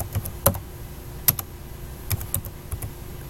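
Typing on a computer keyboard while entering a spreadsheet formula in Excel, scattered crisp key clicks at an irregular pace with quiet gaps between them, close and clear.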